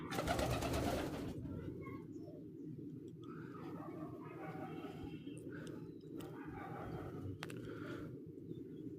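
Pigeons in a pigeon house coo softly in low, rolling murmurs that repeat through a faint, close background, with a brief louder rustle at the start.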